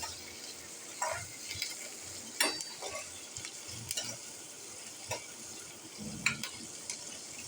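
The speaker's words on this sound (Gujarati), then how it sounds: "તો આપણા તેલ ગરમ થયા બાદ એમાં થોડું જીરું, માંડવીના દાણા, ડુંગળી ને વટાણા નાખી દીધા છે અને એને સારી રીતે સોટે કરી લેશું." Cumin, peanuts, onion and peas being sautéed in hot oil for rava upma, with a soft steady sizzle under repeated scraping and stirring strokes of a spoon in the pan, close by.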